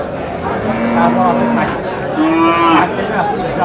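Bulls at the traditional Nilphamari cattle market in Bangladesh give two drawn-out moos, the first about a second long and the second shorter, over a steady background of market crowd noise.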